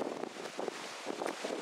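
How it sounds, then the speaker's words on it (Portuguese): Wind gusting outdoors beneath a shady tree on a farm with bean and cucumber crops, a steady rushing buffet with soft swells and microphone rumble, no voices. "Pode ficar de boa aqui, um vento."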